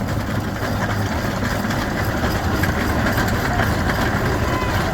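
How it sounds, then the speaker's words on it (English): A Buffalo Pitts steam road roller rolls by in an antique gas and steam engine museum parade in Vista, California, giving a steady, continuous mechanical rumble and chuff at close range, alone without talk. "Buffalo Pitts road roller. Real steam roller."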